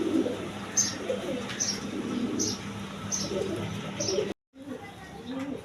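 Big-size pigeons on a breeding farm give soft repeated coos over a steady background murmur and faint chirps, with brief silence near the end before the cooing resumes quietly.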